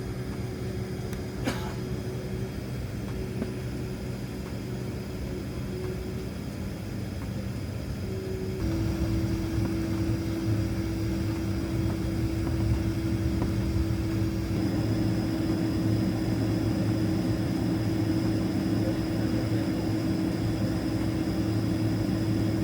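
A Delta Boeing 767 taxis toward the runway, heard from inside the cabin. A steady, loud engine drone and hum continues throughout, stepping up slightly in level partway through.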